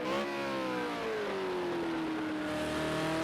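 A V8 Supercar race car engine on the Ruapuna Park circuit, a loud sustained high-revving roar whose pitch slides downward as it lifts off, then holds steady, close and continuous.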